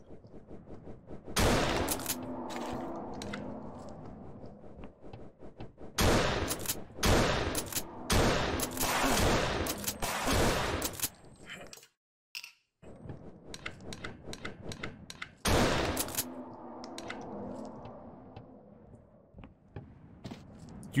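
Gunfire in a Doom engine horror video game, loud dense volleys of shots in several long stretches separated by brief quieter gaps, close and harsh, with no talking.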